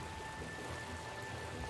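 Steady rain falls in Hyrule Warriors: Age of Calamity, a constant hiss of drops on surfaces, fairly quiet and unbroken, with no voices.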